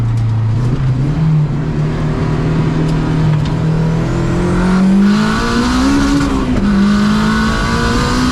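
A loud, close 500 bhp K20-engined Honda Civic EK roars under hard acceleration, its pitch climbing and dipping through gear changes, with a raspy, aggressive tone.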